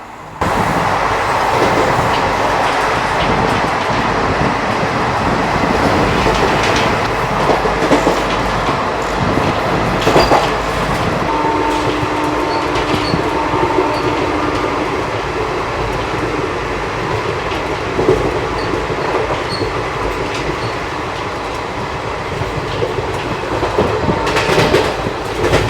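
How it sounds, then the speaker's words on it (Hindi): Steady rolling rumble and rhythmic clickety-clack of an ICF-coach Garib Rath Express running fast on the rails at around 130 km/h, with occasional wheel squeal, heard continuously from inside the coach. "जब 130 की रफ्तार में कोई ICF ट्रेन चलती है ना, तो कुछ ऐसा ट्रैक साउंड जो है वो फील होता है"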